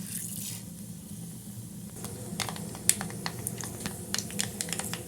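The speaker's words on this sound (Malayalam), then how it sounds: "കടുക് പൊട്ടിക്കഴിയുണ്ട്" Mustard seeds, added after urad dal and fenugreek, pop and crackle in hot coconut oil for inji puli, a ginger-tamarind dish: sharp irregular clicks that grow more frequent over a low sizzling hiss.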